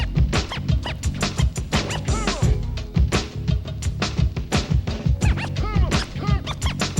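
Intro beat of a song plays loud, with punchy rhythmic drum hits and scratch-like sounds pulsing steadily throughout, no talking over it.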